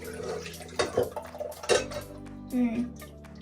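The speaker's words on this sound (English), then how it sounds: "Now we're going to be first transferring our melted butter into this bowl." Melted butter is scraped from a pan into a mixing bowl, with a few sharp clinks and knocks of utensil against dish amid faint kitchen background and light talk.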